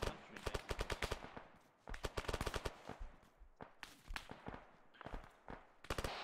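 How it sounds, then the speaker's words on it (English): Arma 3 firefight on Tanoa with shots coming through trees: rapid automatic bursts of sharp cracks in rhythmic strings, some near and loud, others more distant single shots, continuing throughout without talking. "Yeah, they're firing through the trees."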